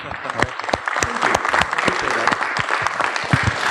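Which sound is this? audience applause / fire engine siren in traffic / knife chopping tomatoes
audience applause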